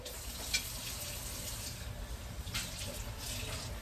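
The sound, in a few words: water being added while cooking pork soup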